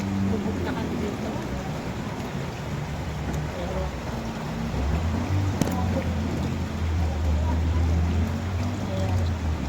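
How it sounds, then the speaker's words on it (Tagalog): Strong floodwater rushing through a residential area after three days of nonstop rain, a loud continuous roaring wash with deep rumbling undertones, steady throughout. "napakalakas na agos ng tubig"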